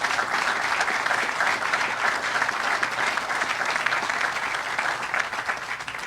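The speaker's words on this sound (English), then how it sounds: "Let's give them a big round of applause for the investment they made." Audience applause fills a large hall at the opening of an electric vehicle battery factory in Kentucky, a steady, dense wash of many hands clapping at even loudness throughout, with no voices standing out.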